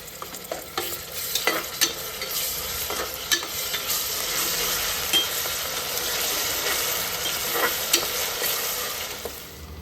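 Ginger garlic paste fries in a pan for mutton biryani, a continuous loud sizzle overlaid with repeated scraping and tapping stirring strokes throughout, close by and without any talking.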